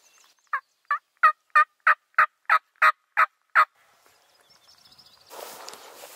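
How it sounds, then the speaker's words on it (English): Wild turkey on a Wisconsin spring hunt, heard as ten evenly spaced, sharp calls in a steady rhythm against outdoor quiet, followed by faint chirps and then a burst of rustling noise. "Just got up here and had a bird gobble where we could see them from the road"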